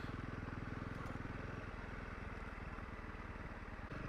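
A Honda CRF 300 Rally motorcycle riding through sand, its engine a loud rapid pulsing thrum heard close from the rider's position, with wind rush over it and no clear talk.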